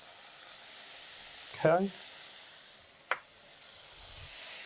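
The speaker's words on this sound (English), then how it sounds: "Get that sauteing." Garlic, peppers and onions sauté in a hot pan, giving a steady low sizzle throughout with a couple of brief sharper bursts; a voice says a single word partway through.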